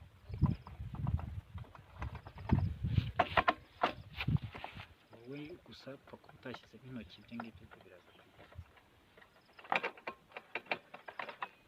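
A ratchet clicking as nuts come off the carburetor of a Makita Briggs & Stratton 625 Series engine, with rapid close clicking bursts, someone talking over the first part and more ratcheting at the end.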